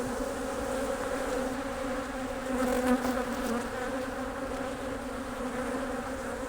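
A dense, steady hum of many honey bees buzzing close by at an open hive, with a brief louder swell near the middle and no voices.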